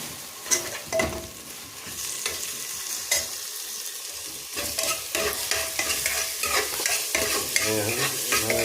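Chicken curry with garlic and ginger fries in a pot at a night birthday party, with steady oil sizzle and repeated scraping, clattering stirs of a spoon against the pot, close and continuous with no talk.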